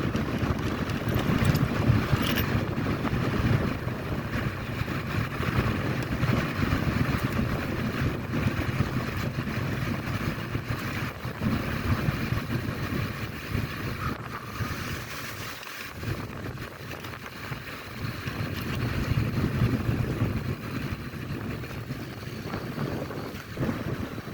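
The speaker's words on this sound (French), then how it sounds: "Il va falloir pédaler parce qu'il y a un très très fort vent." Strong wind buffets a microphone during a bike ride, a loud continuous roar with gusts that swell and ease, and no one speaks.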